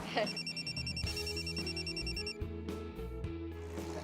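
A telephone rings in a repeating pattern of bright chiming tones over a steady low background, with a voice briefly audible near the start, in an Indonesian television drama scene.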